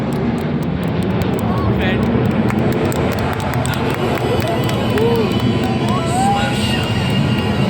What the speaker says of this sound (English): The aircraft is now coming in for a high-speed run along the days.